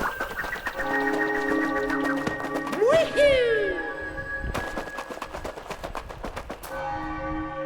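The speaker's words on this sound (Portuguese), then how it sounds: "Ó os sinos da igreja anunciando que vai casar." Church bells ring during the Moon Kingdom wedding in Super Mario Odyssey, with bright chiming tones layered over game music and effects, plus a short swooping sound partway through.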